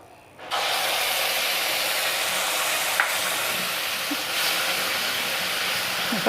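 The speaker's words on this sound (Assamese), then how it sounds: "এতিয়া বনাই থোৱা পেষ্টটো মই ইয়াতে দি দিম সেইখিনি অকণমান ভাজিব লাগিব" Ginger-garlic paste hitting hot oil in a pan for a brinjal gravy, a sudden loud burst into a steady, dense hissing sizzle that carries on evenly with faint clinks.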